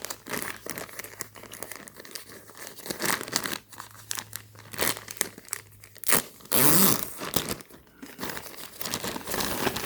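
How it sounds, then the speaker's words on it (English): Packaging crinkles and tears close by as a parcel holding a Palace Skateboards hooded sweatshirt is unwrapped, with irregular rustling bursts and a louder rip partway through. "So let's go ahead and unwrap this."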